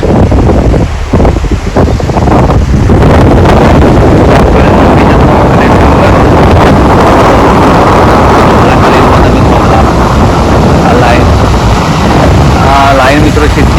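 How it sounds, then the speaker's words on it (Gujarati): Water gushes out of the Dharoi dam in a loud, continuous, close-up roar, buffeted by heavy wind noise on the microphone while a voice talks over it. "મસ્ત પાણી નીકળે છે"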